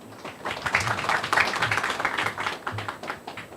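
Audience applause at a Korean corporate ESG management forum, a steady run of many hands clapping at moderate level for the opening address, continuing evenly throughout.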